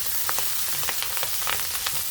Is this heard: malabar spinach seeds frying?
yes